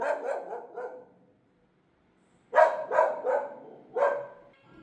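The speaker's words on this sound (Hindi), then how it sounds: "मेरा कुत्ता मेरे ऊपर भौंक रहा है।" A pet dog barks in two bursts, a run of sharp, close barks, a pause of silence, then a louder volley of snappy barks with a final yelp.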